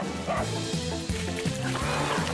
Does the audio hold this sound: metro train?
no